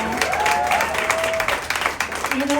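A concert audience applauds in a dense, continuous patter of many hands, loud and close, as a faint tone sustains underneath.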